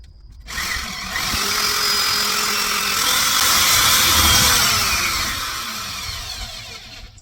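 A power drill drives a screw into an aluminum stud while building a teapot cabinet in an off-grid RV kitchen, a loud steady whirring that starts abruptly and labours under resistance for about six seconds.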